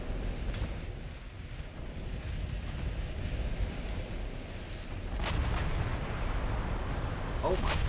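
Heavy 60-inch naval guns firing in the Ultimate Admiral Dreadnoughts naval battle game, a continuous deep rumbling roar of broadside fire that swells louder midway, with sharper reports near the end.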